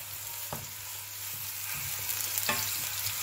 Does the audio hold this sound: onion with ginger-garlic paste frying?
yes